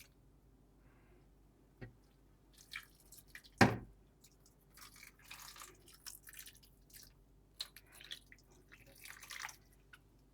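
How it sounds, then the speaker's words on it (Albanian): Hot water is poured over a tray of stuffed peppers, giving faint, scattered splashes and drips with one sharper splash early on, all quiet and close with no speech. "po i hedh ujë të nxehtë përsipër"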